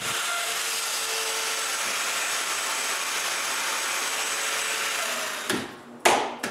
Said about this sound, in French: je marque et je perce 3 mortaises pour des dominos